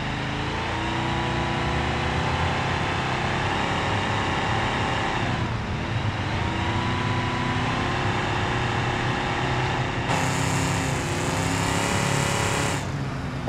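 A car in the BeamNG Drive driving game cruises through a forest with a continuous, fairly loud engine hum that shifts pitch slightly, and no talking over it.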